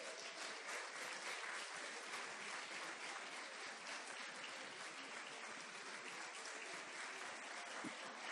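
A crowd at an innovation and intellectual property event applauds, producing a dense, even wash of clapping that holds steady and fairly loud throughout.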